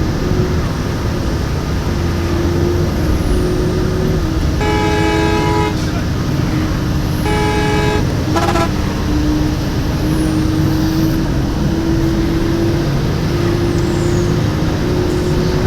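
Bus engine in Bus Simulator Indonesia drones steadily under a heavy pull while overtaking on a Dhaka to Rangpur map mod, with a couple of bursts of horn honking partway through.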